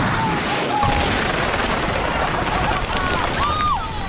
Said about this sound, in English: This is our super plow that we're gonna load up with 12 rockets. It's gonna propel this sled 750 feet down the track going 500 miles an hour.